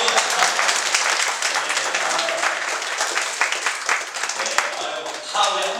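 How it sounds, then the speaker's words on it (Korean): Church congregation applauding during a Sunday service, a steady wash of many hands clapping throughout, close and fairly loud, with no speech over it. "네 반갑습니다. 박수."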